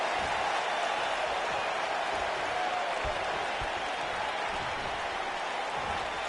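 A large arena crowd in a WWE wrestling video game roars and cheers continuously, a dense wall of noise that stays loud and steady throughout.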